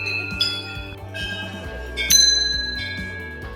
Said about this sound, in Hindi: जो मंदिर के वापस बाहर आने की रास्ते पे दोनों साइड जो है घंटियाँ लगी हुई हैं।